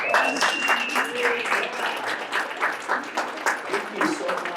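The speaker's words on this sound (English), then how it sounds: "give them a round of applause" Applause for College of Education faculty at a University of Utah event, steady crowd clapping with scattered voices and a whistle mixed in, moderately loud throughout.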